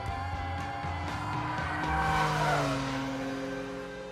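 A car on Michelin sport tyres corners hard on a test track, engine note rising and then a sustained tyre squeal swelling loud before easing off, with no talking over it.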